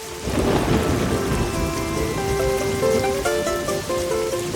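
Steady, heavy rain hisses across the whole stretch, with a low rumble underneath and a few faint tonal notes rising near the end.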